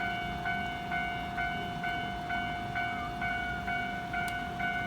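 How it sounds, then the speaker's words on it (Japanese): A JR Kansai Airport Rapid train starts off at a level crossing, where the crossing bell rings in a steady repeating two-tone pattern over a low rumble of the train. "電車動くよ。"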